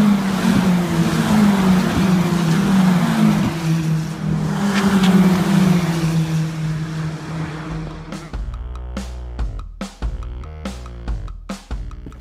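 Porsche and F4 race cars at a circuit, a loud sustained engine drone passing for about eight seconds, then cutting to a sharper burst of clicks and bangs near the end.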